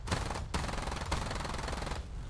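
Rapid machine-gun fire in the War Thunder video game, a dense continuous rattle of rounds broken by a few sharper bursts, loud and steady with no talk.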